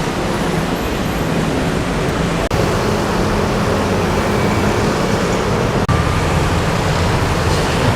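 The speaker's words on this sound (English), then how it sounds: "Cars and motorcycles coming up." Cars and motorcycles move through the busy Senen intersection in Jakarta, making a constant loud roadway roar with brief dips, heard without talk.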